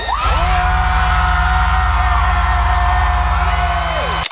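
An Aurora Music Festival crowd lets out a single sustained scream that lasts about four seconds. The roar is loud, steady and close, and it cuts off abruptly at the end.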